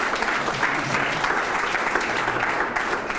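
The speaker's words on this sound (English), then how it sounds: "you can give a round of applause to Stefan and to Simon as well" Applause at a biotech entrepreneurship talk, an audience clapping for the speakers as a dense, steady wash of many hands that holds at moderate loudness for the whole stretch, with no clear voices on top.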